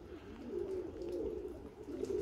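Budapest pigeons coo softly at a feeder in a loft, a low throaty burbling repeated in short phrases, close but quiet with no voices present.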